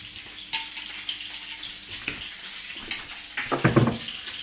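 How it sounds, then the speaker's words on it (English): Food frying in a frying pan, a soft continuous sizzle with intermittent stirring clatters and a louder burst of crackling near the end, heard close by. "I'm going to move around guys in case that frying pan is too loud"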